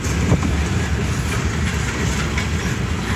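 A CSX freight train rolls past close by on a windy day, a loud continuous rumble and roar of wagons with faint clickety-clack throughout.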